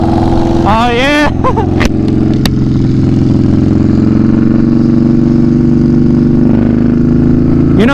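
A Yamaha Bolt motorcycle engine drones steadily while riding, a loud, close, continuous rumble with a brief rev and pitch rise near the start, and some wind noise over it.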